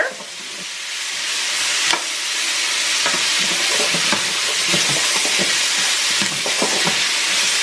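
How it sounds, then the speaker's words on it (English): Curry shrimp and vegetable stir fry sizzles steadily in a pan while being stirred and tossed, with scraping clicks of the utensil over a continuous close frying hiss, no talking. "you just keep mixing this until your stir fry is done"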